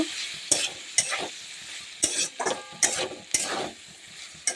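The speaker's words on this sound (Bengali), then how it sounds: "এই তো ভাজা হচ্ছে" Food fries in a pan with a bright sizzle broken by repeated scraping strokes and clicks of a spatula, several sharp bursts over a few seconds.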